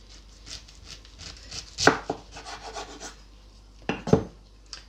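A knife cuts fresh pineapple into cubes on a board, with repeated rubbing, slicing strokes and two sharper chops that thunk through the fruit, close and clear with no talking.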